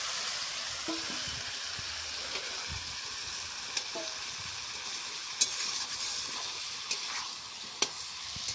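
Spice paste being sautéed in a kadai for a jackfruit and prawn curry, a soft continuous sizzle with sporadic sharp ladle scrapes and clinks against the pan, fairly quiet and without speech.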